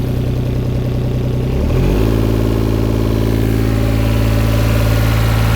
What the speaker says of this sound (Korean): 고출력의 상태에서도 어, 엔진음이 나쁘지는 않고요